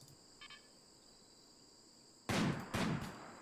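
Gunfire in RimWorld: two sharp, loud shots in quick succession near the end, following a quiet stretch with a faint short chirp early on.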